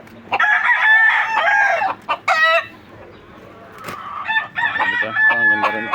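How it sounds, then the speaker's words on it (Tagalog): Chickens and roosters in a backyard, several close, loud crows ringing out in turn with clucking between them and no voices over them. "Maraming manok dito."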